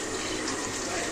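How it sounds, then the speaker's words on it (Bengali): Water poured from a tap or vessel onto washed taro leaves, a brief, loud, continuous rushing splash. "একটু জল দিয়ে দেব"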